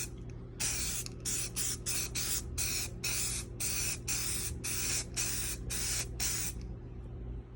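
Repeated short bursts from a spray can misting paint onto wood, about a dozen pulses in steady rhythm, close and loud, over a constant low background hum.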